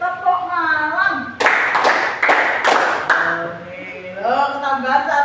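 Children in a classroom do a 'tepuk malam' clapping chant: about five sharp, close unison claps in a quick rhythm, with talking and chanting voices before and after.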